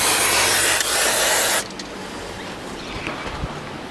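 An aerosol can of penetrating oil sprays around the spark plugs of a 1970 Jaguar XJ6 in one loud, close hissing burst lasting about a second and a half, then stops, leaving faint clicks and handling noises.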